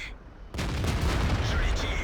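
Tank cannon fire in World of Tanks-style competitive league play, a sudden loud burst of gunfire and booms cutting in after half a second of quiet and continuing as a dense, sustained barrage.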